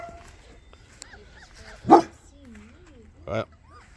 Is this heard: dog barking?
yes